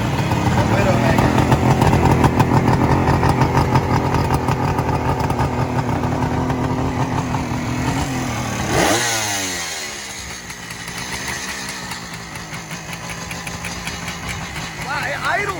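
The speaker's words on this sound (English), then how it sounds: "Wow, it idles well too. Look at this idle." A vintage two-stroke motorcycle idles steadily at close range at a vintage motorcycle event, its rattly buzzing engine running throughout as people talk over it.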